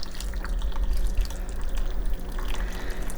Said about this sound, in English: And this is warm water from my ACEKOOL electric kettle.